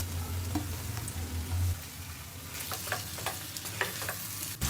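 Sliced tomatoes dropped into hot butter with browned onions, giving a steady sizzle with occasional stirring scrapes and no talk.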